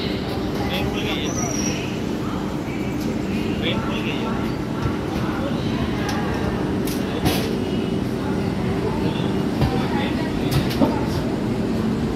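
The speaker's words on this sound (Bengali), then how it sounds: "আমাদের ট্রেন হামসফর এক্সপ্রেস শিয়ালদা স্টেশনের 14 নম্বর প্ল্যাটফর্ম থেকে একদম তার রাইট টাইমে তার যাত্রা শুরু করে দিল জলপাইগুড়ি রোডের উদ্দেশ্যে" The Humsafar Express pulls out of platform 14 at Sealdah station bound for Jalpaiguri Road, a steady, fairly loud rolling rumble with occasional clanks, with a voice talking over it.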